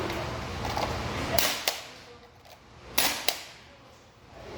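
Hilti DX460 powder-actuated nailer firing twice, each shot a sharp, loud crack of the driving rod striking the nail, spaced about a second and a half apart with quiet between.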